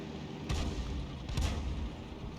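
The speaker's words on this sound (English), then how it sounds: "Fires ahead of his course and it lands in the ground." Artillery fire in a tank video game, a 105 leFH18B2 self-propelled gun firing its shell at a moving enemy tank: two heavy booms about a second apart over a steady rumbling engine bed.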